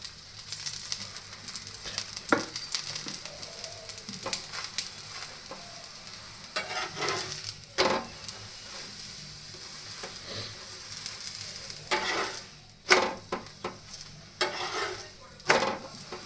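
Spinach paratha fries in oil on a hot pan, giving a continuous close sizzle broken by scraping and stirring knocks from the spatula, with sharper clatters of utensil against pan at irregular moments.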